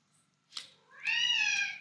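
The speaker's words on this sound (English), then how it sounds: "as you can hear, this is my cat complaining because I think ultrasounds" A cat complains while an ultrasonic 3D-printing cutting tool runs nearby: a short sharp breathy cry, then a longer drawn-out whining meow, close and fairly loud, with no talking.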